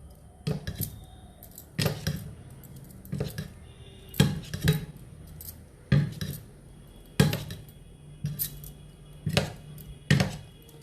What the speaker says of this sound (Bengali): চামচ দিয়ে সুন্দর করে আমি মেখে নিচ্ছি